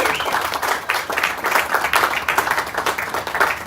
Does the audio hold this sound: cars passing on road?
no